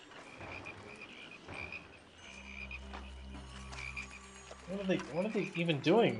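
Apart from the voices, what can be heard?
frogs croaking in the Pharaoh video game's plague of frogs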